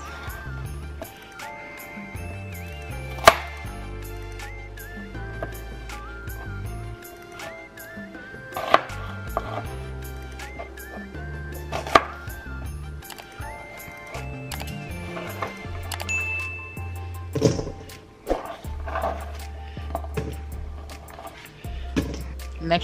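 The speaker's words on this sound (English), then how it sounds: "I prefer to cut them in bigger pieces than dicing them." Knife on a cutting board while cutting peppers and vegetables for Jamaican oxtail, a string of sharp taps and knocks at an uneven pace mixed with scattered clinks, fairly close.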